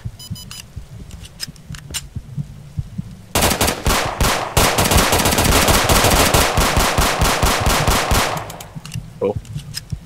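Rapid bursts of Glock pistol and automatic gunfire in a Roblox game, a sparse few shots at first, then a dense, loud volley of several seconds that stops abruptly, with brief talk underneath.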